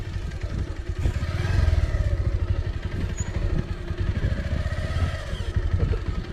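A motorcycle engine labors through thick mud on a rough roadworks track, steady revving and chugging close by with bursts of throttle and clattering, no talk over it.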